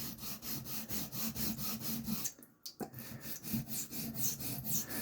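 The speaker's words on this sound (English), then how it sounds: "You can bevel set on a diamond plate." A Puma Inox knife bevel being ground on a diamond plate, a close rhythmic scraping of steel on abrasive with strokes roughly every half second, pausing briefly midway before resuming.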